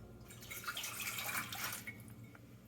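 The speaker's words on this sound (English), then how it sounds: "you'll get a cup of water and you'll put that into your saucepan" Water from a cup poured into a saucepan while making simple syrup for a mango daiquiri, a close splashing pour that lasts a couple of seconds before tapering into a few drips.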